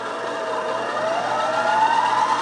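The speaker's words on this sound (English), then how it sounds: "Now I'm going to adjust this knob. That changes the RPM on the spindle." Spindle of an Emco Compact 5 CNC lathe changing speed, a steady mechanical whir whose whine climbs in pitch as the RPM is raised, loud and close with no talk.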